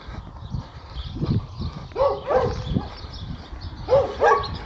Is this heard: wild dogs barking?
yes